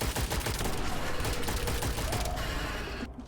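Dense, rapid bursts of gunfire in the video game Witchfire crackle continuously at high volume, like automatic weapons in a firefight, fading abruptly near the end.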